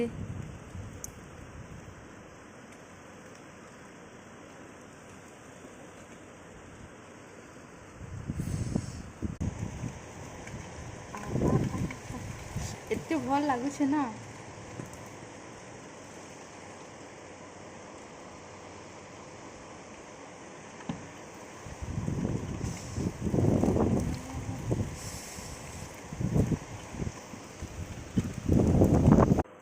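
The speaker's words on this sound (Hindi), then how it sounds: "वर्षा होछे फुरफुर पवन मारुछे।" Rain and gusting wind outdoors, heard as a continuous rushing wind noise buffeting the microphone and swelling in louder gusts, with people talking over it at times.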